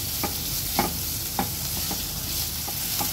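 Chopped onion sizzles and fries in a hot pan, with a spoon scraping and stirring it in several distinct strokes over a steady, close crackle; no one speaks.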